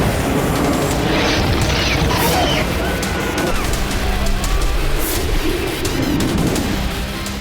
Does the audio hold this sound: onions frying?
no